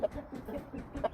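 A chicken clucks in a quick run of short, close clucks, fairly quiet and with no voices.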